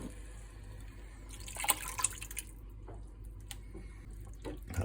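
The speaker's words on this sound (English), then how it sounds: "I'll add in a couple of cans or a couple of jars of my homemade diced tomato" Homemade diced tomatoes pour from a jar into a chili pot, a soft liquid glug and splash with brief wet bursts, quiet and close, with no talking.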